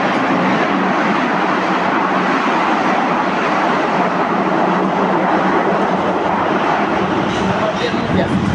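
Bombardier Movia BM21 metro train running between stations on the Bucharest line from Gara de Nord, a steady loud rolling rumble and hiss throughout with some faint voices underneath.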